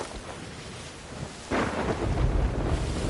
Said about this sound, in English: Oh no, it's the wind of the storm.